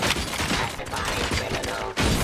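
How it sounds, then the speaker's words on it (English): Dense, loud bursts of gunfire in the RoboCop: Rogue City video game, rapid overlapping shots filling the scene with a brief dip before another burst. "Gunshots? What's going on?"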